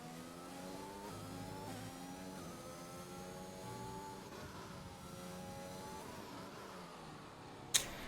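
McLaren race car engine in a racing game on Circuit Zandvoort in the Netherlands, a steady high-pitched revving whine rising and falling through gear changes, with a brief sharp click near the end.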